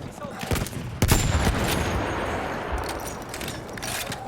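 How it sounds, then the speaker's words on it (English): Anti-tank rifle fire in the World War I shooter Battlefield 1, with sharp, loud reports at about half a second and one second, then a long rumbling battle din of distant gunfire and blasts. "Now this is an anti-tank rifle."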